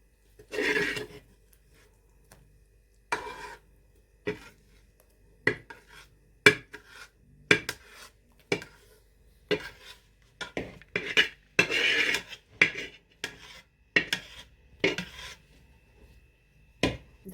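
A spoon scrapes and knocks against a pot while stirring a warm mixture of wheat flour, dry dates, coconut and edible gum for ladoos, giving irregular clinks and rasping strokes with short gaps between them.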